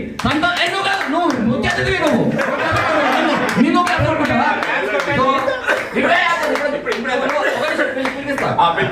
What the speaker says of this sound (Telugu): ఇప్పుడు అందరు క్లాప్స్ కొట్టండి